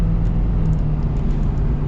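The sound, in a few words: Ford F-350 diesel truck engine running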